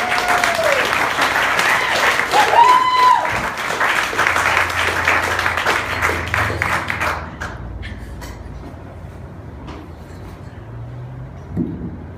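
A live audience at a show in a coffee shop applauds loudly and steadily for several seconds, with some whistles over the clapping, before it dies away to quiet room noise.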